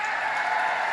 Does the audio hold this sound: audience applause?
yes